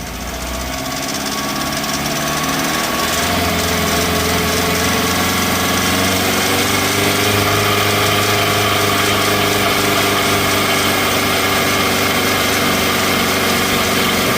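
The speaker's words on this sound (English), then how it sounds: "let's raise the engine RPMs and let's see how much pressure we have" A car engine held at raised revs of about 2,500 RPM during a catalytic converter test drones loudly and steadily after a brief climb, with a rough vibrating tone and no talk.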